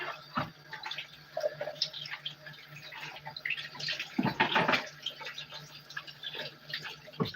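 Tap water runs over an apple being washed at a kitchen sink, with a continuous close splash, uneven bursts of water and a louder gush partway through.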